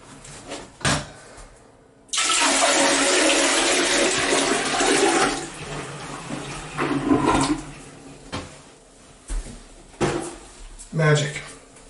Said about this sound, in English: once you flush, you need to dump a bunch of water in the toilet